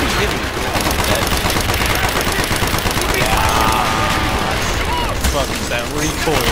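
Constant rapid automatic gunfire from an MP40 submachine gun in Call of Duty Black Ops fills the game mix, a loud continuous rattle with dense game effects throughout.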